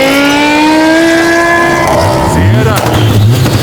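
A car engine revving hard at a car event, loud and close, its pitch rising and then dropping away before surging again, with crowd noise around it.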